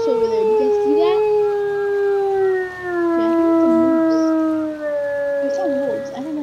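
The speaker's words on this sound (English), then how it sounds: "That's a ridiculously funny howl." A wolf in WolfQuest howls in long, sliding tones, loud and close, with further howls overlapping and rising and falling across the stretch, while a person talks quietly underneath.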